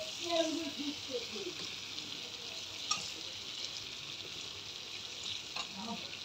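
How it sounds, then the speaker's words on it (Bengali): Fish frying in a pan gives a steady, hissing sizzle throughout, with a few faint clicks and light stirring sounds over the constant crackle. "তো আমি এখন হচ্ছে মাছটাও এর ভিতরে দিয়ে দেব।"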